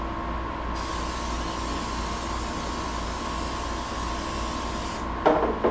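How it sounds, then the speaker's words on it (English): A steady hiss of a cooking spray can spraying continuously for several seconds, close by, ending with a couple of soft clicks. "You want to spray it pretty generously because these apples are sticky"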